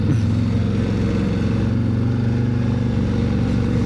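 A 2024 Harley-Davidson CVO motorcycle with a built 135 engine runs loud and close, a steady deep rumbling idle throughout with no talk.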